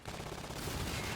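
Rapid automatic gunfire from a high fire rate weapon in Call of Duty: Infinite Warfare multiplayer, a dense continuous burst filling the whole moment at steady loudness with no talk over it.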